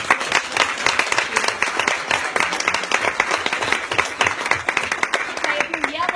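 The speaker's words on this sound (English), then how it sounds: "Give them a round of applause" A conference audience at a Younique sponsoring event claps and cheers loudly as a group stands for recognition, with dense steady applause, whoops and voices mixed in throughout.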